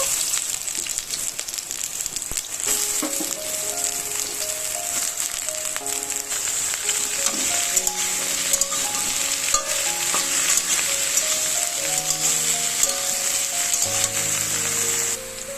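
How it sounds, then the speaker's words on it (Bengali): Taro stolons frying in hot oil in a wok, a continuous loud sizzle with occasional stirring scrapes, heard under melodic background music. "তো আমি লতিগুলো প্রথমেই ভাজা করে নেব একটু ভালো করে।"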